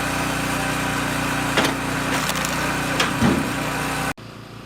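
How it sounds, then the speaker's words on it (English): A chainsaw engine runs steadily as it cuts into a log in a forest, a dense buzzing drone with a few brief surges, then it stops abruptly. "A man leans forward, carefully lowering a chainsaw. The engine roars, and the blade bites deep into the log."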